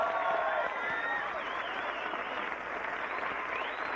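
A live comedy audience applauds a band, crowd clapping mixed with cheers and a few whistles, sustained and moderately loud.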